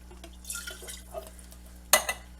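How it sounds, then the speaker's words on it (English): A little water swished inside a can or jar makes a few soft sloshing splashes, quiet and close, with a sharper slosh near the end, and no talk. "Put a little bit of water, give it a swish,"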